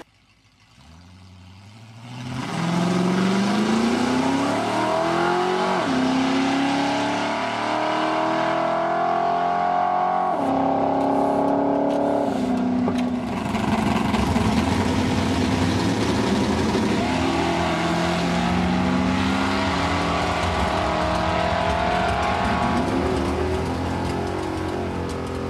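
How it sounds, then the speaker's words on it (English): A Ford Mustang engine runs without nitrous boost, starting up and then revving repeatedly through rising and falling pulls, loud and close with no voices. "This is the Mustang without the nitrous boost."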